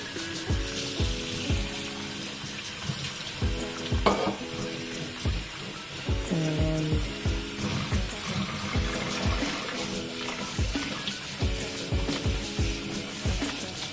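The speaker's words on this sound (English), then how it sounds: "cool it under running cold water" Cold tap water runs steadily over cooked noodles in a kitchen strainer, a continuous close splashing stream with soft periodic knocks and clatters throughout, no talking.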